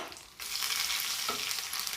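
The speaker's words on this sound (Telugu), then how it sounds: "అల్లం వెల్లుల్లి పేస్ట్ అనేది పచ్చివాసన పోయేంత వరకు వేయించుకొని స్టవ్ ఆఫ్ చేసేయాలి" Mustard seeds, cumin, curry leaves, dried red chillies and ginger garlic paste sizzle in hot oil for a tempering, a steady close frying hiss that jumps louder after a brief quieter start, with stirring.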